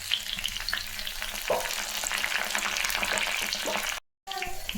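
Green and red chillies with curry leaves frying in hot oil give a steady, close crackling sizzle with bursts of spitting, broken by a brief silence near the end.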